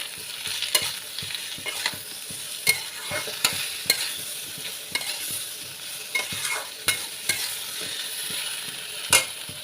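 Mete alu (yam) seeds being stirred with salt and green chilli paste in a pan, a soft sizzle broken by repeated sharp clinks and scrapes of the spoon at an uneven rhythm.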